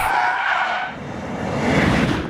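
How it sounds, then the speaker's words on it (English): Car tires squeal loudly and continuously as vehicles are driven hard around tough bends on Volvo Cars' test track, a sustained screech with engine noise beneath that dips briefly and then swells again. "road holding and chassis components are tested with cars driven around tough bends"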